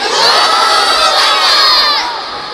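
A large crowd at an Islamic religious gathering roars the takbir response in unison, a loud sustained massed shout of many voices that swells and holds, then tapers off.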